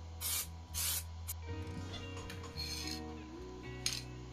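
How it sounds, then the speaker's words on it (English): A spray can of white primer paint, used on a small homemade fishing lure, hisses in two short, close bursts followed by softer, sputtering sprays, with a faint tonal background hum. "very lightly pressing the push button on the spray can, so it's not a mist that comes out, but little droplets of paint"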